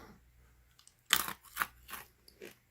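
Freeze-dried Skittles candy crunched between the teeth: a sharp, loud crisp bite followed by several smaller crunches, close up in an otherwise quiet room.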